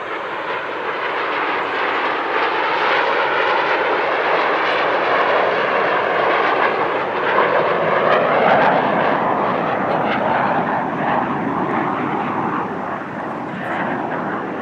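Military aerobatic jets of the Fazan Al Emirat team roar through an airshow display, a sustained loud broadband jet rumble with slowly sweeping pitch, no talk.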